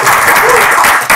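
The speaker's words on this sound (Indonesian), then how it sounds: "Tepuk tangan." A short, dense burst of audience applause at a podcast recording, loud and close, lasting about a second.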